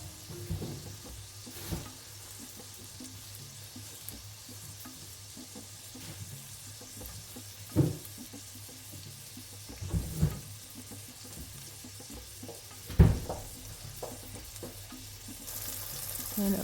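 Smashed beef burger patties sizzle steadily in a hot pan, a continuous close frying hiss broken by a few louder clatters and pops.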